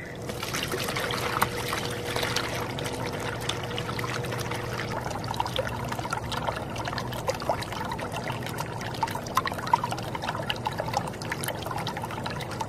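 Water pours steadily into a DIY Growpito hydroponic container, a continuous close trickle and splash that stays fairly even throughout.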